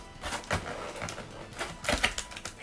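Tape peeled and torn off a plastic blister pack holding an Ichiban Kuji figure, a series of close, loud crackling rips in short bursts with brief pauses, no talking.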